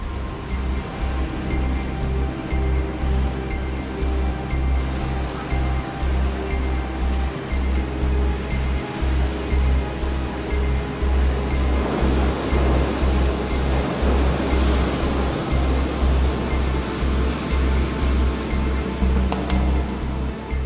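Atlantic ocean waves and surf at the Ria d'Etel, a steady loud roar of breaking water running unbroken throughout, with a low rumbling undertone and a surge of hiss toward the middle.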